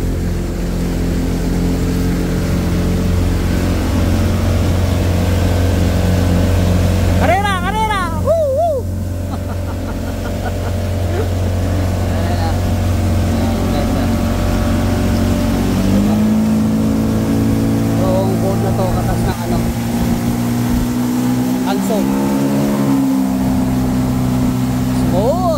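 A boat engine hums loud and steady throughout a run along a bay, with someone speaking over it and a short whoop partway through.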